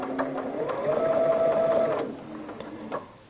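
A sewing machine stitches fabric for a headband, running in a steady close whirring burst of rapid needle clatter for about two seconds before slowing and stopping with a few clicks.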